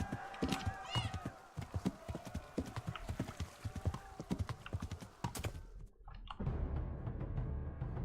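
A horse gallops in Kingdom Come: Deliverance with rapid, rhythmic hoof clip-clops and a whinny, then the hoofbeats stop abruptly and a low ambient rumble takes over.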